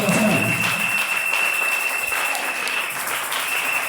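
Church congregation applauding together in sustained, even clapping that fills the space, steady and fairly loud throughout with no voices above it.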